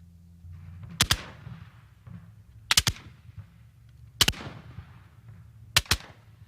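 Civil War reenactors fire muskets by file, four sharp, loud reports spaced about one and a half seconds apart, each a quick double crack with a short ringing tail over low outdoor rumble.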